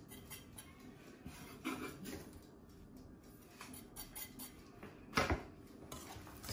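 Ingredients are mixed quickly in a bowl, with faint utensil scrapes and light clinks against the dish and a sharper knock near the end, quiet and close with no talking.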